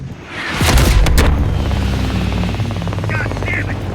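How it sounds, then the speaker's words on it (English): A helicopter takes heavy fire in the video game Call of Duty Black Ops Cold War, with a loud boom followed by a steady rotor drone and whine, and voices over it. "Taking heavy fire, waving off."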